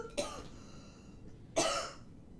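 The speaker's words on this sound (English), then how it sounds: "I'm sorry for coughing down your ear." Two separate coughs from one person, close to the microphone, each a short harsh burst with a quiet pause between them, against faint background hiss.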